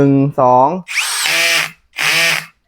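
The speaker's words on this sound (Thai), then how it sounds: "ตอนนี้ผมอยู่ที่โหมดขันสกรูแล้วนะครั บผมใช้คลัสเบอร์5นะฮะ" A CANLIDI CID-60 cordless drill driving a screw in screw mode, clutch setting 5, gear 2, gives two short whirring bursts close up, following a brief spoken voice.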